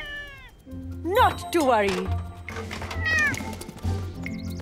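A cartoon cat stuck up high meows repeatedly in rising and falling cries, loud and close, mixed with people talking.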